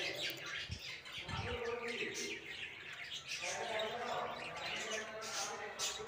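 Young pet birds kept at home give repeated squawks and chirps close by, in irregular bursts over a steady background, with a voice speaking at times.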